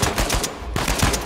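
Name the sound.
machine gun fire in the video game Uncharted 4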